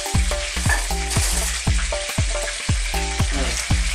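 Chicken pieces frying in a pan for a creamy garlic chicken dish, a steady bright sizzle punctuated by regular low rhythmic thumps, close and loud with no talk.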